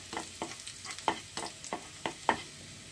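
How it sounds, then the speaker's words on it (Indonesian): Shallots sautéing in oil: a soft sizzle under a regular series of about ten quick spatula scrapes and stirs in the pan, fairly quiet and close, with no talk. "kita tumis bawang merahnya"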